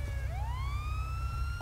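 A police car siren in the video game GTA 5 with the LSPDFR mod wails in one long rising sweep that climbs and holds, loud and close over a constant low engine rumble.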